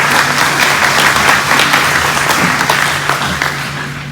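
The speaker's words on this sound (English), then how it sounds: "Let's give everybody a big round of applause for being here." Loud, sustained applause from the audience at a Chamber of Commerce candidate forum, a thick wash of many hands with a faint hum beneath, easing slightly toward the end.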